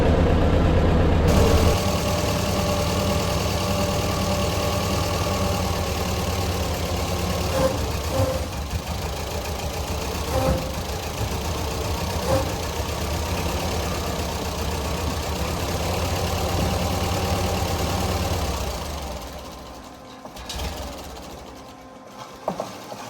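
Engine of a Chevy Nova project car running steadily with an uneven idle and light knocking, loud and close, for about nineteen seconds before dropping away to quieter mechanical noise.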